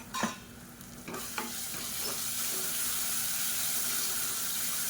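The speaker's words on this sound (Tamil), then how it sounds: "இது நல்லா பச்சை வாசனை போக வதக்கிக்கலாம்." Ginger garlic paste and red chilli paste sizzle as they are sautéed in a pan for kuska, opening with a few scraping stirs of a spoon, then settling into a steady, close frying hiss.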